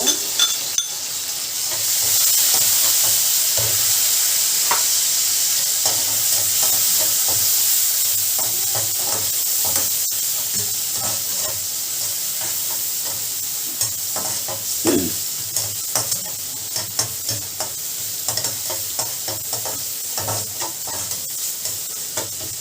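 Onions and tomatoes sauté in a pan for a palak potato gravy, a continuous sizzle broken by frequent clinks and scrapes of a spoon stirring against the metal.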